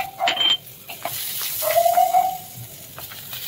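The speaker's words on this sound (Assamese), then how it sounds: "এইখিনি তেলত দি গৰম কৰি ল'ম, অলপ ৰঙা ৰঙা কৰি ভাজি ল'ম" Ginger and garlic sizzle in hot oil for a garlic spicy chicken dish, a steady close crackle with a few brief clinks and stirring sounds, no voices.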